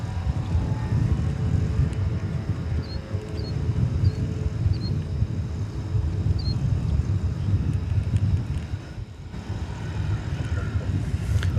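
An Embraer E-Jet airliner lands at DFW Airport after a flight from Killeen, Texas, heard as a steady, distant low roar of jet engines with a faint chirp above it and no one speaking.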